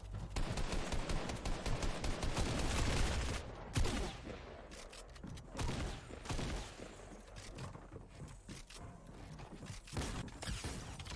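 Rapid bursts of drum gun fire in the Fortnite video game, dense and loud, with a long sustained volley early, then shorter broken bursts and scattered shots.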